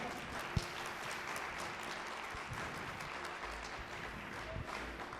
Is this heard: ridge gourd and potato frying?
no